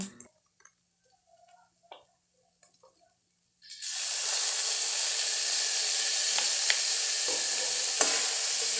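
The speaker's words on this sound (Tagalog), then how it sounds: "Ayan, gisahin ko lang po." Pork sisig sautéing in a hot pan with pepper and liquid seasoning, a loud steady sizzle that bursts on after a few quiet seconds of faint clicks and stirring, with occasional scrapes and ticks over the frying hiss.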